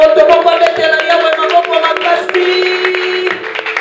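A congregation applauding the Lord during a French-language prayer meeting: rhythmic, close clapping from many hands, heard under a strong sustained voice.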